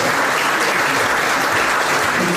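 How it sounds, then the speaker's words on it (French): An audience at a basketball club event gives a sustained round of applause, dense and steady clapping from a large crowd that fills the whole moment. "je voudrais qu'on applaudisse encore une fois"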